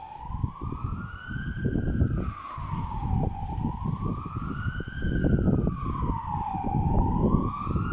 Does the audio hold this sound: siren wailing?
yes